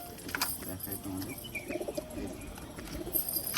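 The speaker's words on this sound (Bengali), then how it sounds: "এই দুটো পায়রা কিন্তু জোড়া দিয়ে তোমাদেরকে দেখালাম" Pigeons in a home loft coo softly and repeatedly, a pair of newly matched red birds among them, their low murmuring mixed with faint chirps and background rustle, close by and steady.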